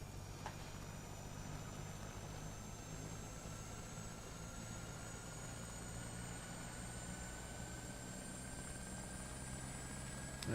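An H125 helicopter flying in Microsoft Flight Simulator 2024 gives a steady, unbroken rotor and turbine drone with a faint high whine, holding an even loudness for the whole stretch with no talking.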